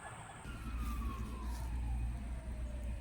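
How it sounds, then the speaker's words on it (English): Emergency vehicle sirens wail through a city neighbourhood, a falling siren tone sweeping over steady traffic rumble, fairly distant and continuous. "There's a lot of loud and madness and sirens going on in this part of the city right now."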